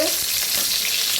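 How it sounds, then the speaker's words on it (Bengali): Tengra fish frying in hot oil in a home kitchen, giving a dense, even sizzle heard up close with light stirring, continuous and without talk. "মাছ ভাজা হয়ে গেছে,"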